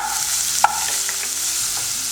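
Chopped onions dropped into a hot pan with chana dal and other lentils, giving a steady close sizzle and frying hiss with a brief stirring clink partway through, no voices.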